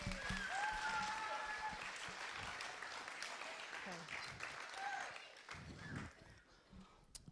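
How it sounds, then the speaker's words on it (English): A church congregation applauds steadily, dense clapping filling the room, with some voices and whoops mixed in before it tapers off near the end. "Give him a round of applause"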